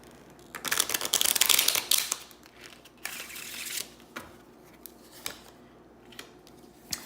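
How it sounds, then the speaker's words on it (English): Playing cards are shuffled up close, a rapid papery riffle building to a burst, then softer taps and brief rustles as the deck settles. "And let's shuffle one more time."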